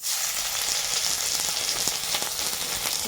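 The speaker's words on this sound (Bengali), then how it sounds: "আমাদের পেঁয়াজটা সুন্দর করে ভাজা হচ্ছে" Chopped onions fry in hot oil for a chicken pasta, producing an even, close crackling sizzle with faint stirring taps, no voices.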